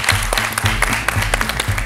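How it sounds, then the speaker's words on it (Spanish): Applause rises from a television studio audience during a Mexican talk show, rhythmic clapping bursts over a low sustained musical bed. "Un aplauso para ellas."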